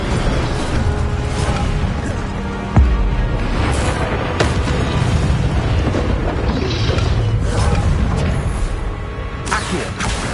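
Incendio fire spell cast in a wizard simulation video game: a loud, continuous roaring blast of flame with a sharp boom near the start, rumbling and crackling throughout.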